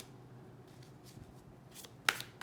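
A deck of tarot cards being shuffled: faint papery rustles build to a crisp riffle burst and a few trailing flicks, close and quiet, with no talking.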